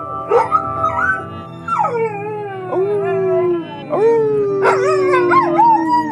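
A pampered pet dog in a Los Feliz home howls in long, sliding wails with a few higher yips, loud and close, with no talk over it.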